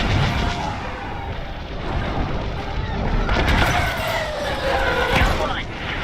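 A starship explodes during a dogfight in Star Wars Squadrons, a loud rumbling blast with crackling debris over a continuous engine roar, with voices talking over it.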